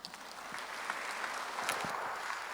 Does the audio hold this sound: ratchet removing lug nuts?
no